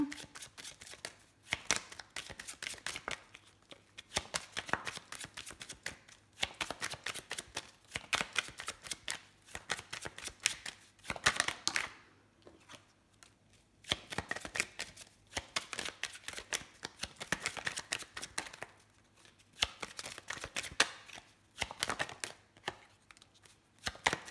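Oracle cards of colours are shuffled by hand in quick, papery riffling bursts that come in uneven runs with short gaps, soft and close, over roughly twenty-four seconds.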